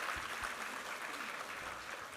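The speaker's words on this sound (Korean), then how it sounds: "우리 하나님께 감사와 영광의 박수 올려드리겠습니다." A church congregation applauds during a Sunday worship service, a steady wash of many hands clapping at moderate distance, holding evenly throughout.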